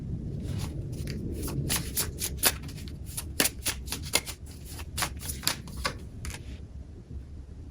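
Tarot cards are riffled in a rapid series of crisp, papery flutters and taps, close and fairly quiet, with a steady rhythm over about eight seconds.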